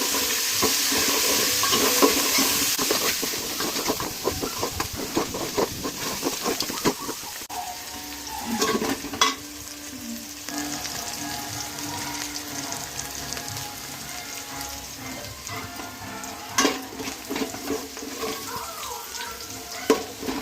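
Chopped coriander and other ingredients are sautéed and stirred in a pan for country chicken biryani: a loud sizzle that settles into a quieter crackle, with scraping stirs and a few sharp clinks along the way.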